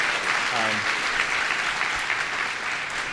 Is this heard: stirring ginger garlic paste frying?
no